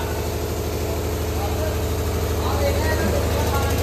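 Hero Splendor motorcycle fitted with a new modified exhaust, idling steadily at close range with a continuous low, throbbing rumble throughout.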